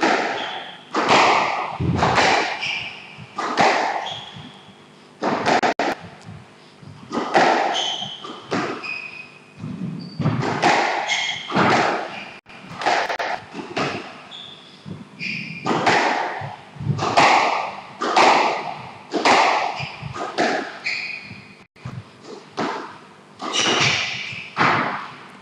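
A squash ball struck hard again and again through a fast professional rally, sharp thuds off rackets and walls coming steadily every second or so, close and loud, with occasional crowd or commentary murmur underneath.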